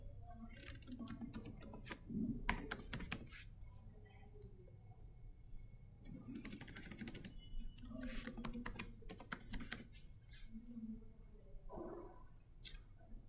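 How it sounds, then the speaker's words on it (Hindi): Someone types a password on a computer keyboard, with bursts of fast clicking keystrokes separated by pauses and a voice talking at times in between. "चलो मैं एक बार फिर से पासवर्ड डाल देता हूँ कुछ यहाँ पे।"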